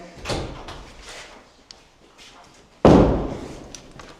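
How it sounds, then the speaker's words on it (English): A door is thrown open during a two-man close-quarters battle drill, giving a sharp, loud bang near the end, with softer thumps and movement sounds before it and no talking. "he's going to throw the door himself because I'm watching what he's doing"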